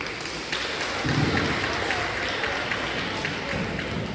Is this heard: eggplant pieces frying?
no